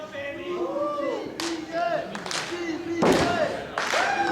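A wrestling crowd at an independent show in Rosemont cheers and claps for the wrestler GPA, a steady roar with bursts of applause. A commentator talks over it throughout.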